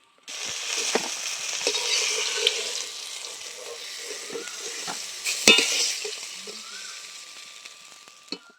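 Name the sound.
fish frying in oil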